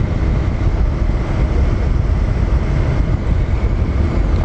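A Honda CB150X motorcycle on a night ride up to Tagaytay, its engine droning steadily and loudly under heavy rushing wind noise throughout, with no clear separate revs.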